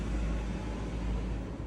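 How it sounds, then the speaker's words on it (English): Steady, low rumbling traffic noise from outside, a constant broadband hum with no voices. "Sorry for the road noise outside."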